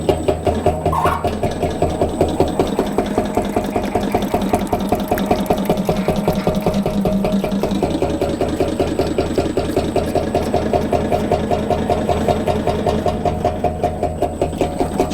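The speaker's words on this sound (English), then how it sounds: "Did you hear the noise change on the table?" Action Mining wave table running wet in production, a loud continuous rhythmic mechanical shaking with a steady pulsing beat over splashing water and motor hum.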